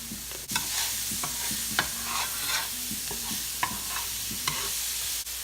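Onions and peppers with Cajun seasoning sizzle steadily in a pan while a utensil scrapes and taps in a busy stirring rhythm.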